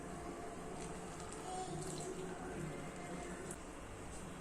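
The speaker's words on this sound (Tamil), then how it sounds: "இதுல தண்ணி ஊத்தி பிசைஞ்சுக்கலாம்" Water runs steadily into a bowl of murukku dough made for noodle-style murukku snacks, a continuous close pouring wash with no talk.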